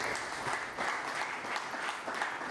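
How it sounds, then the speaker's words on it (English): A room of attendees claps steadily for a couple of seconds at a press briefing on the Edo State governorship election, a soft, even patter of many hands. "Please a round of applause."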